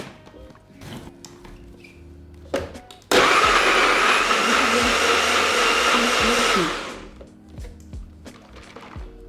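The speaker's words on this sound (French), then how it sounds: "il ne vous reste plus qu'à mixer les tout" A blender whirs loudly for a few seconds as it blends peach, mango, mint, water and sugar into sorbet. It spins up abruptly, holds a steady roar, then winds down, with kitchen clatter before and after.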